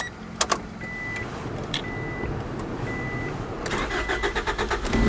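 Acura Integra fitted with Skunk2 coil-on-plug ignition, its engine starter cranking briefly before the motor catches and settles into a steady idle, heard from nearby with a few clicks and faint interior sounds.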